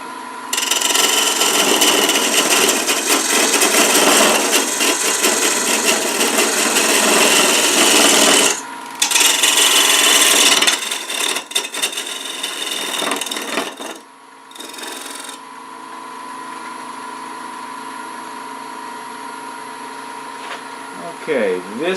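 A wood lathe takes a peeling cut on a pillar candlestick, giving a loud, continuous broadband rasping hiss that runs for about eight seconds, breaks briefly, resumes, then drops to a quieter steady hum of the spinning lathe.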